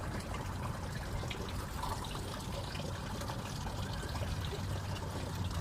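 Continuous flowing water like a waterfall rushes steadily and fairly loudly throughout, an even outdoor trickle and pour with no pauses or voices.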